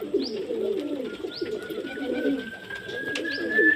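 Pigeons coo in low, repeated rolling calls close by while feeding on grain, with faint chirps and a thin high whine in the background.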